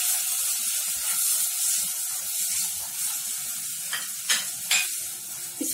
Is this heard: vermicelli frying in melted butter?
yes